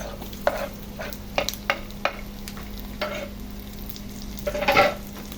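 Onions sautéing in a pan for shrimp paste, with a steady sizzle and a series of sharp scraping stirs from a utensil, close and loud, with no talking.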